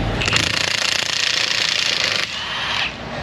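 A heavy impact wrench hammers at a stuck bolt on a 2013 Ford Escape during axle and tie rod work, a loud continuous rattling burst lasting about two seconds, then a brief slightly softer run.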